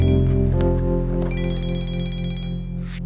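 A telephone rings in a television drama, a steady electronic ringtone with bright sustained tones that keeps sounding loudly throughout, with no voices over it.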